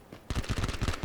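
Rapid gunfire bursts out in a PUBG battle royale match, a fast string of sharp shots that starts suddenly and keeps going, loud and close, with no talking over it.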